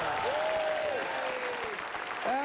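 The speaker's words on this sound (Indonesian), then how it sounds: "Tepuk tangan dong yang meriah semuanya." Studio audience on an Indonesian family game show applauds in a steady wash of clapping, with bright tonal sweeps from music or sound effects gliding over it.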